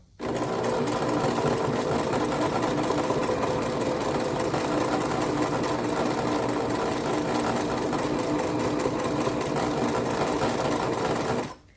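A Singer sewing machine runs at slow speed, stitching appliqué on a double wedding ring quilt with white thread; a steady, close mechanical whirr with fine rapid needle ticking continues unbroken for the whole stretch.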